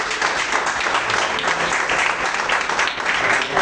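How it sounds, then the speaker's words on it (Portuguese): An audience at a church youth service claps and applauds loudly and continuously, a dense wash of many hands close by with no pause. "Ela falou, mas todo mundo aplaudindo."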